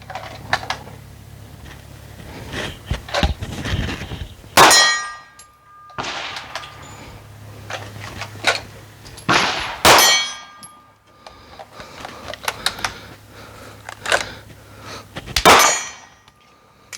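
Gunshots strike steel targets, producing three loud, ringing metallic clangs spaced several seconds apart, each with a long bright decay over fainter clinks and background noise.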